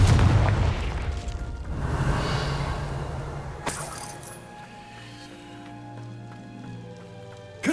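Confringo fire spell explosion in Hogwarts Legacy, a heavy boom at the start followed by crackling debris and a sharp burst midway, then a fading tonal ring-out and a fresh blast at the end.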